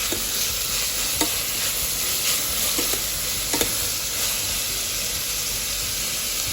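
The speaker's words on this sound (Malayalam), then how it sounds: "ഉള്ളി ലൈറ്റായി വാട്ടിയെടുക്കാം." Chopped onion sautés in a pan for a chicken curry, giving a steady close sizzle with a few sharp scrapes of stirring throughout and no voices.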